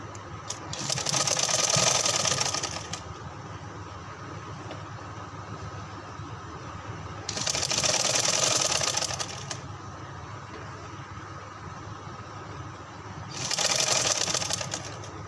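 A sewing machine stitches a double round seam at the waist of a baby frock, running in three loud close bursts separated by pauses with low background hum.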